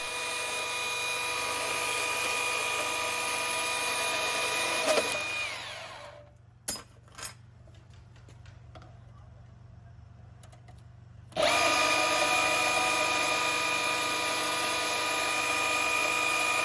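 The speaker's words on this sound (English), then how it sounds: "I begin by cutting two types of contrasting steel into 4-inch sections." A power tool steadily cutting two types of contrasting steel into sections for a Damascus chef's knife, a loud sustained whine that stops for a few seconds of quiet clinks, then resumes at full level.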